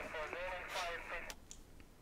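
Steady radio static hiss from a dead receiver in the video game The Secret World, a continuous rushing noise heard under someone talking in German.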